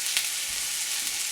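Garlic frying in a hot pan, a steady bright sizzle with a couple of light stirring scrapes, close and loud with no voices.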